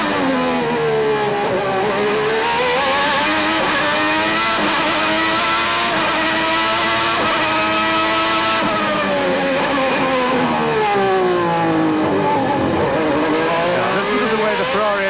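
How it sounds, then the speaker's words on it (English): Ferrari Formula 1 car at the 1990 Australian Grand Prix, its high-pitched engine wailing loud and close for the whole stretch, pitch climbing and dropping through gear changes and corners, with a commentator talking over it. "Listen to the Ferrari."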